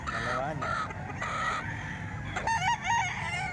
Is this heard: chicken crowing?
yes